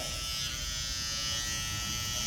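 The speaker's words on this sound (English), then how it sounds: "Now I'm gonna use my foil shaver." Steady electric foil shaver buzz during a mid skin fade haircut, a continuous close hum with a bright high whine, holding level throughout with no talking.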